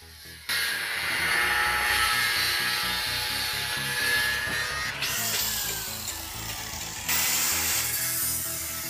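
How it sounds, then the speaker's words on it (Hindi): Continuous grinding cut through excess bolt ends during greenhouse construction, a loud, steady abrasive whine with brief restarts and changes in pitch as the blade works through the metal; no voices. "जो जो एक्स्ट्रा बोल्ट है उसको काट दिया जाता है।"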